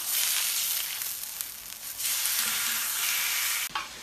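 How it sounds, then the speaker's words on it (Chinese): Pork belly fries on an iron griddle with a loud, steady, close sizzle and crackle that runs almost without pause, briefly dipping near the end, with no talking. "先整个给它下锅煎上啊"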